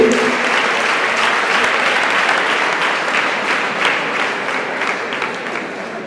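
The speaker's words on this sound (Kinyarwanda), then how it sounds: "Ayo mashyi ntabwo ahagije, bajya mu masabire yose baba amashyi menshi." An audience at a school sports event opening attended by government ministers claps loudly and continuously, a dense close burst of applause that fades slightly toward the end.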